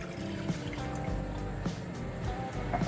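Water poured from a glass into a pan to brew senna leaf tea, a steady close trickle and splash running for a few seconds with no talk.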